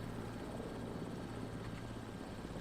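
A Bell 66 helicopter flies in Microsoft Flight Simulator 2024 over Monument Valley, its steady rotor and turbine drone loud and continuous throughout with no talking.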